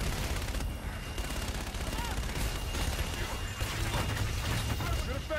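Call of Duty Infinite Warfare gameplay battle with continuous bursts of gunfire and impacts, dense and loud throughout, with radio-style voices talking over it.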